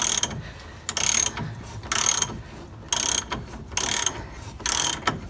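A ratchet wrench works a heated bolt on a 1958 VW bus transaxle, with six quick bursts of sharp, close clicking separated by short pauses.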